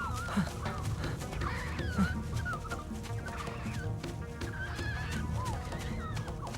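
Vultures in an animated Simba lion cartoon give repeated squawking, gobbling calls scattered over a dense, constant background of soundtrack noise, moderately quiet throughout.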